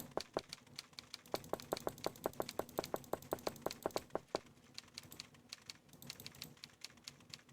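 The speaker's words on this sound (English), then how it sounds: "I hear some typing." Rapid keyboard typing in the point-and-click mystery game Nancy Drew: Treasure in the Royal Tower, a fast run of crisp clicks that pauses, then continues more sparsely, with no talk.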